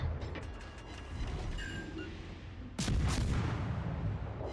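Heavy ship guns fire in a World of Warships Legends naval battle, booming salvos with a sharp, loud blast near the end over rumbling game background.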